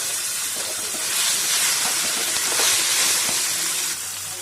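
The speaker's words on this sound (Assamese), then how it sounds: "এতিয়া মই দি দিলোঁ ইয়াতে আদা নহৰু পেষ্ট" Ginger-garlic paste hits hot oil already frying a bay leaf and two dried red chillies for an Assamese plantain flower dry fry, giving a steady, loud broadband sizzle that swells slightly midway and carries on alone.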